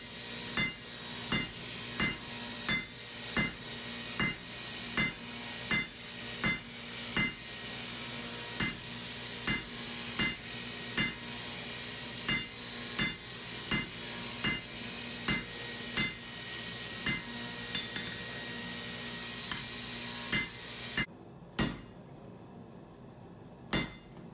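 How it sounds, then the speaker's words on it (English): A hammer pounds a steel bar to thin it out for a knife handle, sharp metallic strikes landing in a steady rhythm about once a second, ringing and close, with a brief pause near the end before one last blow. "Now I'm pounding in my handle, just thinning out the bar so that I can have a good handle."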